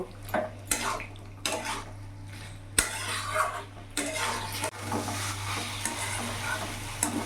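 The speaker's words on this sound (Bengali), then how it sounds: "ভালো করে মশলার সাথে কষিয়ে নেব।" Fried potol, potatoes and paneer being stirred and sautéed with spices in a pan, a spoon scraping and clanking against the metal repeatedly over a steady sizzle, with no talk.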